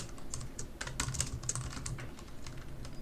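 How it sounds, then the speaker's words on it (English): Rapid, steady typing on a computer keyboard, dense clicks and key taps running continuously close to the mic with a faint low hum underneath. "Typing as fast as I can, guys."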